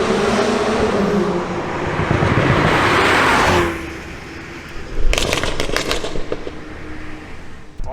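A BMW 135i with an AFE axle-back exhaust roars loudly under acceleration with an aggressive, raspy tone, then drops off to a lower rumble followed by a burst of crackling pops.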